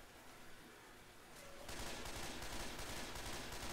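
Rapid bursts of gunfire in Left 4 Dead 2 start partway through and continue densely to the end, crackling and loud, after a quieter opening.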